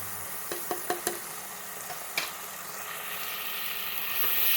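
Spice powders of chilli, coriander and turmeric sautéing in a pan for catfish curry, a soft sizzle with a few quick spoon knocks early on, then a hiss that swells toward the end, with no voices.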